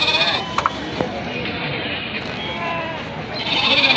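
Mayilambadi goats and kids bleating at a busy weekly goat market in Ettayapuram, several short calls rising above a steady crowd murmur with people talking throughout.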